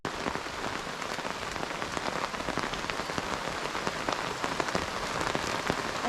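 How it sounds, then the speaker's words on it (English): Heavy rain pours steadily at a lakeside campsite, a dense, even hiss of drops drumming on surfaces close by, with no voices. "this is starting to rain kind of heavy."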